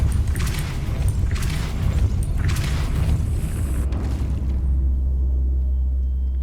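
Depulso spell cast in Hogwarts Legacy, a loud booming magical blast with a rumbling tail over about four seconds, giving way to a steady low hum, with no voices.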